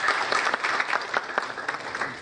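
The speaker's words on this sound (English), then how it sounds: "We join our hands for an applause." An indoor audience seated at a business program breaks into steady applause, many hands clapping together in a dense, continuous patter that holds at an even level throughout.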